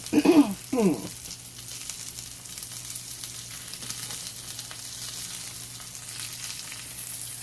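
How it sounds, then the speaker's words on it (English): Vegetables frying in a skillet, a soft continuous sizzle heard after two brief clattering stirs at the start, steady and close throughout. "continue with the cooking of the vegetables"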